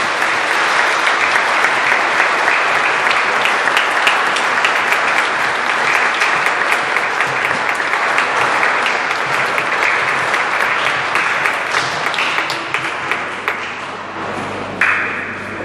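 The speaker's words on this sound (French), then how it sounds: "Et on applaudit encore." Church congregation at a first communion and profession of faith celebration applauding, a dense, sustained wash of many hands clapping that fades slightly toward the end.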